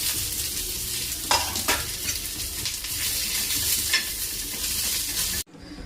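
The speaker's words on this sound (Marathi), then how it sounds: "आता कांदा भाजून घेते आधी, नंतर टाकते त्याच्यात सुकं खोबरं." Onion, garlic, green chili, ginger and dried coconut roast in a pan for green chicken masala, a steady close sizzle with stirring scrapes throughout that cuts off abruptly near the end.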